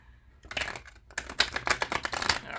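A deck of tarot cards being shuffled by hand in a dense run of quick, crisp riffling rattles, close and fairly loud, after a brief soft lead-in.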